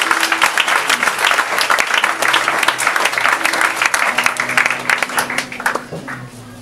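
Church congregation clapping together during a worship service, loud sustained applause from many hands that tapers off near the end, with some voices mixed in.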